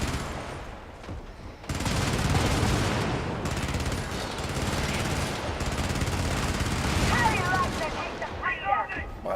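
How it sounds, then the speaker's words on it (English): Heavy gunfire in a video game, with dense overlapping bursts and rapid automatic fire rolling on almost without pause, loud and close, with sharper crackling shots near the end. "that guy was shooting wildly"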